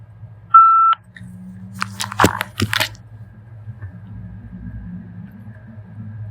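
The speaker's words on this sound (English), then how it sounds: "That beep sound was letting you know that it has been turned on." A Victor Reader Stream gives a single short, clear electronic beep as it powers on, then a few soft handling clicks and rustles over a low steady background hum.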